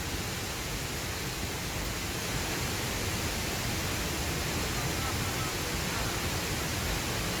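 Waterfall at Blang Kolam in North Aceh, Indonesia, pouring into a pool: a steady, loud broadband roar of falling water that fills the whole stretch without pause.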